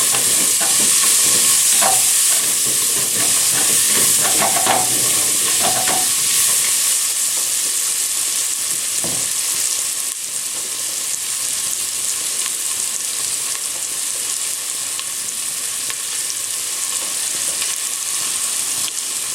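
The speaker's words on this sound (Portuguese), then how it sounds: "Vamos deixar a nossa cebola suar um pouquinho, para então adicionar a cenoura" Onion and carrot sweat in a hot pan for an oxtail dish, giving a loud, continuous close-up sizzle with occasional stirring clicks early on and no voices.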